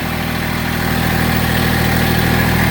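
A Massey Ferguson GC1710 sub-compact tractor-loader-backhoe's small diesel engine runs steadily and close, a continuous loud mechanical drone with a throbbing low pulse that sounds slightly uneven and rough, with no talking.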